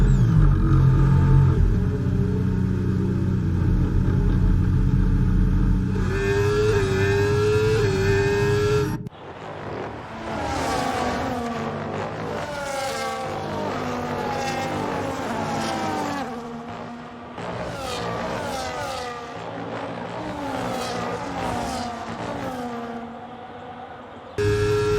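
A Haas Formula 1 car racing at the Mexico Grand Prix, heard from the nose cam, gives a loud engine whine that rises and falls through gear shifts over a low rumble, with music or commentary sound beneath it.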